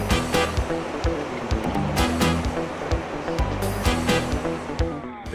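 Green River rapids running high and muddy in spring, heard from a raft as a loud, continuous rush of churning water with sharp splashes and knocks breaking through, no talk.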